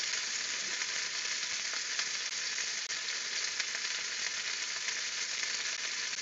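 Steak sears in a pan at an off-grid cook set-up, giving a constant bright sizzle and hiss that is fairly faint and steady, with no talking.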